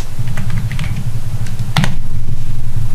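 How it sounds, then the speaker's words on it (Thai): A search query is typed on a computer keyboard in a quick, uneven run of close keystrokes over a steady low hum. "ถ้าสมมติคุณพิมพ์ว่า Baby Pips"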